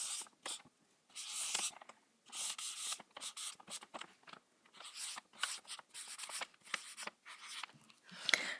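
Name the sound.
writing on a DIY Christmas countdown calendar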